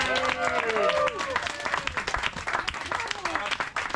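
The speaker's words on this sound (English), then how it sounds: "we've got to give a quick cheer and shout out to all the awesome marshals who are out there today" A roadside crowd at a 10K running race cheers and claps for the course marshals, continuous applause with shouts and whoops over it and voices mixed in.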